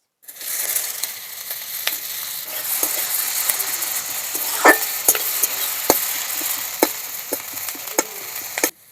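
Whole spices, bay leaf, dried chilli and chopped onion crackle in hot oil, the sizzle rising after a quiet start and punctuated by sharp spoon clicks and scrapes against the pan; close, no talking.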